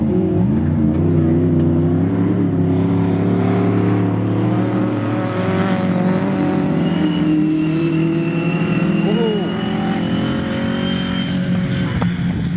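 Supercharged autograss race car running on carburettors, a rear-wheel-drive Micra among the field, roars loud and sustained at close range, engine note rising and falling through revs with a harsh, continuous drone and no talk.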